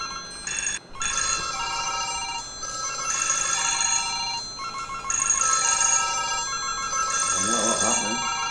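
Several cell phones ring at once, an overlapping chorus of electronic ringtones with repeating melodic chirps, steady and fairly loud, set up around grapes for a plasma experiment, with a bit of noise near the end.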